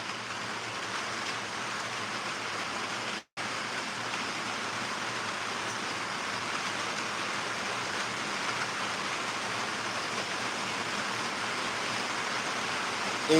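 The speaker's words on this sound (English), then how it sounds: "Y'all hear it raining." Steady rain falls outside on a farm, a dense continuous hiss heard alone at even volume, broken once by a momentary dropout.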